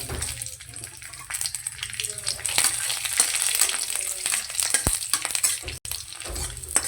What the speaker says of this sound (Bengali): সব কিছু একসঙ্গে খুব ভালো করে ভেজে নেব।